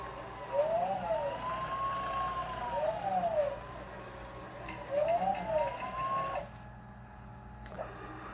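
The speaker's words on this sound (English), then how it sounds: "So now that these motors are in action" Stepper motors on a DIY three-axis CNC machine whine through repeated rising and falling tonal sweeps as the tool moves and cuts a circle, then stop, fairly quiet and close.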